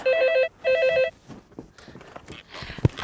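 A telephone rings in a TV drama scene: two loud electronic trilling bursts close together, followed by quieter rustling movement and a sharp knock near the end.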